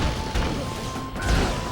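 Fighting effects from the video game Marvel Nemesis: a few heavy smashing impacts and thuds over a dense, garbled game soundscape, brief and fairly loud with no talking.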